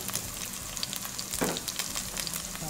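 Sausage and bacon frying in a pan for vegetable fried rice, a dense, constant crackling sizzle up close with small pops and a brief stir-like rustle midway.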